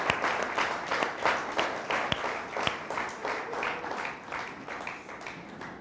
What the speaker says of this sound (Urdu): اور زوردار تالیاں خدا باپ کے جلال کے لیے